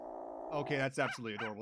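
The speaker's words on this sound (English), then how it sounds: "That's a dog." A dog barks in the Phoenix Wright: Ace Attorney video game, a few short yappy barks in quick succession over a faint background, with a person speaking at the same time.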